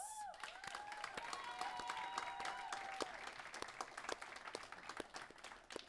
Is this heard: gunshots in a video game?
no